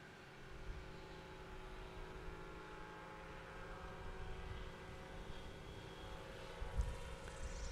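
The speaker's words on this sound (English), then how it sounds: "Another sub 50-foot takeoff for Dan Reynolds." A STOL aircraft engine roars steadily during a short takeoff at a Pocola, Oklahoma airpark competition, a continuous droning hum with a slight swell near the end.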